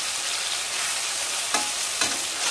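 Eggplant stir-frying with pork in a hot pan of oil, a steady close sizzle with two sharp spatula stirs or scrapes near the end.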